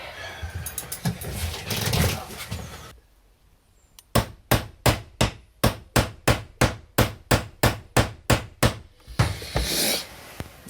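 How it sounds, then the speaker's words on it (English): A mallet strikes new chisels into wood in a quick, even series of about eighteen sharp knocks, preceded by scraping and rubbing and a short quiet pause. "Chiseling with new chisels."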